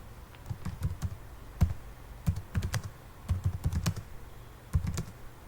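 Typing on a computer keyboard, quick irregular clusters of close, light key clicks with short pauses between bursts, quiet and alone.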